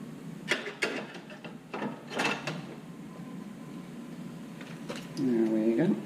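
A screwdriver works a screw into a beauty plate on a panic bar door lock, giving soft scraping and clicking mechanical sounds in short bursts, ending with a brief louder rattle.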